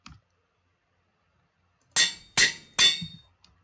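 Three sharp metallic clangs in quick succession ring out from a Minecraft anvil as an item is renamed, each with a short bright decay, following a faint click and near silence.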